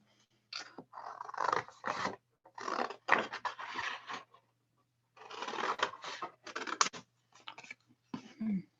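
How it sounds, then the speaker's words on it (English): Scissors cut a paper circle in close, quiet bursts of crisp snipping and scraping, several runs separated by short pauses. "and I'm going to cut it out."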